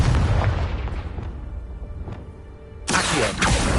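In a video game, the Confringo spell sets off a deep, booming explosion that rumbles and fades, followed by a second sharp burst of blast noise.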